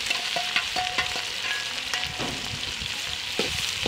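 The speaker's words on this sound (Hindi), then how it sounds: "घी गर्म हो गया, इसमें प्याज डालेंगे।" Onions are stirred in hot ghee for chicken masala, making a steady close sizzle broken by scraping and clinking stirring sounds, with no talking.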